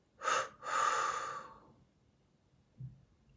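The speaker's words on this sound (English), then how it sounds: "Deep breath in." A single deep breath in and out, loud and close, with a long airy inhale and a slower exhale, then a faint soft sound after a pause, all without talking.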